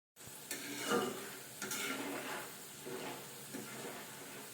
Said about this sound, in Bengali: ডুবো তেলের মধ্যে ডাবলি ভাজা কিন্তু চরম রিক্সের কাজ এখনই তিন চারটা ফটাস ফটাস করে ফুটে উঠলো